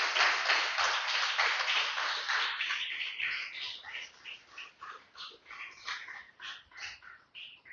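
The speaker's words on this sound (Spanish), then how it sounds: "Déselo fuerte el aplauso, aleluya." Church congregation applauding at a preacher's call, a dense wash of clapping that thins into looser, uneven claps toward the end, with a voice in the background.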